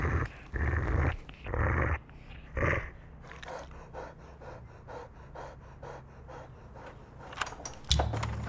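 A dog growls and pants close by, low rumbling bursts at first giving way to rapid rhythmic breathing, with a brief clink near the end.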